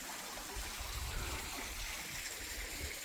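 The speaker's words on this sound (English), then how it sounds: "look at the size of that fountain. Isn't that beautiful? And that's where you hear the water." Water pours continuously into a large outdoor fountain beside an outdoor living space by a pool in Mexico, making a soft, steady rushing wash heard from a distance with no talking.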